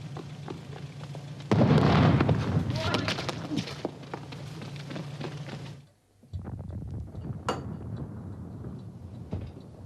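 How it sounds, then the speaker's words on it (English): Arsonists set Optica aircraft alight at an airfield in 1987: a sudden loud blast erupts and rolls into a sustained roar, then cuts out, followed by quieter clatter and scattered bangs. "heard the explosions from a quarter of a mile away"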